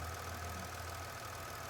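A 2021 Mitsubishi Mirage engine idling while the car sits still, giving a steady, low rumbling hum with a slight vibrating texture, close and continuous throughout with no talk.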